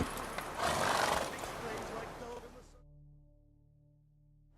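Roach, Geralt's horse in The Witcher 3, neighs loudly with hoof clatter and rustling for a couple of seconds, then the noise cuts off, leaving a quiet low hum.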